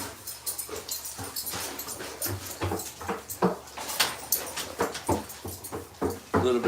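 Dogs whimper and bark indoors in a continuous, busy stream of yips and whines, fairly close and fairly loud. There is no talking.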